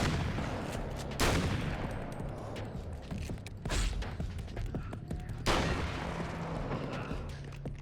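Gunfire in the video game Alan Wake's American Nightmare, several heavy booming shots at irregular intervals with clicks and mechanical clatter between them, loud and close.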